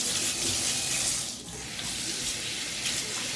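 Cold tap water runs steadily as a sweet potato is rinsed under it at a kitchen sink, a close continuous hiss with a brief dip as the flow is interrupted.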